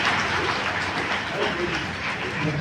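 An audience at a Tamil debate event claps together after a greeting, a dense, even patter of applause heard briefly at moderate distance, with murmuring voices mixed in.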